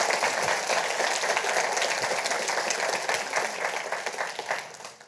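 An audience at a business school's parent and family orientation applauds. The crowded clapping stays steady and fairly close, then thins out and fades over the final second.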